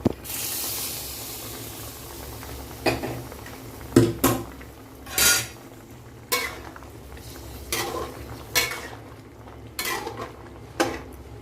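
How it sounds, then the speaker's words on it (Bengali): A vegetarian curry simmers in a pot with a low steamy hiss, broken every second or so by clinking spoon strokes and pot knocks from stirring. "ঝোলটা বেশ ফুটছে"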